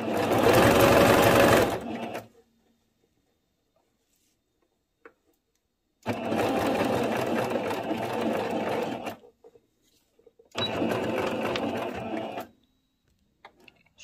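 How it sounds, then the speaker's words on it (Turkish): A sewing machine stitches an elastic skirt seam in three loud, steady bursts of about two, three and two seconds, with silent pauses between them and no talking. "şuradan da bir dikiş yapacağım."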